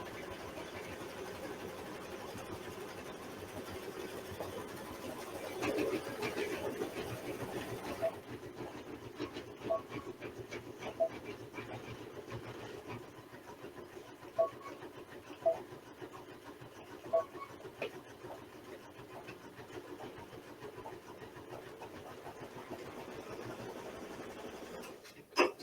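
A sewing machine stitches a Kimberbell mug rug, a steady mechanical hum with faint periodic clicks, running a little quieter and lower after the first few seconds as the machine slows.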